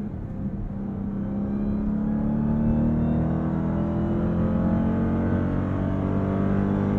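A 2023 Dodge Durango SRT Hellcat's supercharged V8 runs under steady load through the gears, its dense, continuous engine roar and faint supercharger whine heard from inside the cabin, loud and unbroken with no talking.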